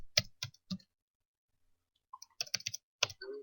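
A computer keyboard is typed on in short bursts, with a few quick keystrokes, a pause, and then another cluster of clicks. The sound is close and quiet, with no voices.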